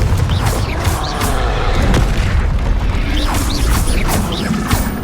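Repeated Confringo fire-blast spells in Hogwarts Legacy, a dense run of loud booming impacts and crackling bursts over a constant rumbling game backdrop, several blasts clustered near the end.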